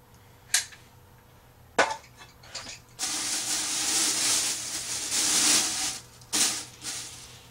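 Lid of a Presto Precise digital pressure canner being unlocked and lifted, with sharp metallic clicks and clanks followed by a prolonged airy hiss, close up and without voices.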